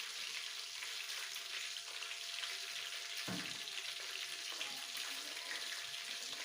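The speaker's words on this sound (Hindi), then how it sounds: "घी डाल रहे हैं" Ghee sizzles in a pan while egg masala is being cooked, a continuous bright crackling hiss with one soft thump partway through and no talking.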